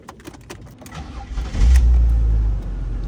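A junkyard car's engine starts up and settles into a loud, steady low rumble for the last half of the clip after some quieter handling noises.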